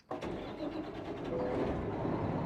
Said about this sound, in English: Look at the key when I turn the engine on.